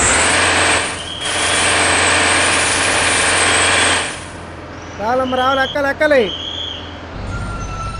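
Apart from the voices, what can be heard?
Volvo B9R bus hand brake in Bus Simulator video game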